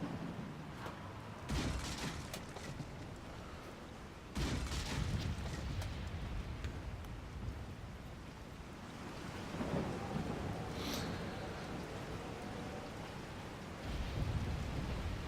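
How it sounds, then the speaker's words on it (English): Steady rain falls in the video game Resident Evil 4, with deep rolling thunder booming in several heavy swells over the constant downpour and no voices. "And again, it's raining."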